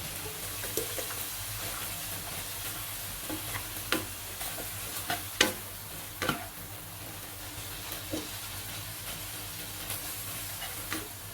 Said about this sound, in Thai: คราวนี้ก็ผัดผักคะน้า ให้โดนความร้อนให้สุกกันให้หมดเลยครับ